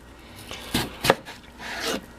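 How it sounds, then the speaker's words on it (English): A kitchen knife dicing potatoes on a cutting board: a few separate close, crisp chops with gaps between them, the last one more drawn out. "and dice up a couple potatoes"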